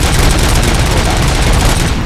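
Dense, continuous gunfire from the video game RoboCop Rogue City, with rapid overlapping shots and booms forming a loud, sustained barrage throughout.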